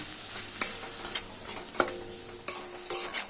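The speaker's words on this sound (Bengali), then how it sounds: "এবার পেঁয়াজটাকে ভালোভাবে ভেজে নেবো" Sliced onions sizzle softly in hot oil in a pan for a Bengali katla fish curry, with sharp spatula scrapes and stirring clatters at irregular moments over a steady crackle.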